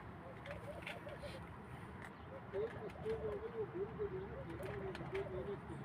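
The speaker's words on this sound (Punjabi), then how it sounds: "ਉਹ ਘੁੱਗੀਆਂ ਵੀ ਆ ਗਈਆਂ" Doves coo softly in a few repeated phrases from a little distance, faint over a steady outdoor background hum.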